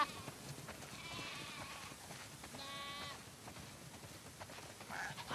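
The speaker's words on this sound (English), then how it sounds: "Wow, that's a lot of sheep." Several sheep bleat at moderate distance near a barn in the game The Last of Us, calls overlapping over a soft background hum.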